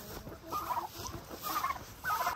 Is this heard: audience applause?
no